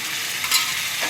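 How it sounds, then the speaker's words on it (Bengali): Chana dal lentils go into a hot pan for a restaurant-style vegetarian dal, giving a steady close hiss of sizzling with one brief louder burst midway. "এবারে আমি ডালটা দেব।"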